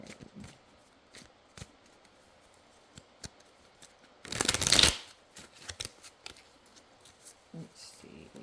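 Tarot cards are riffled in one quick, crisp burst of shuffling, close by, with light card taps and handling sounds around it.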